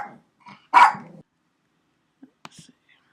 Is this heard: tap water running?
no